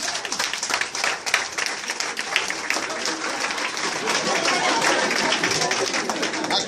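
A church congregation applauds to acclaim Jesus, with dense, sustained clapping from many hands filling the room and steady throughout, with voices mixed in underneath.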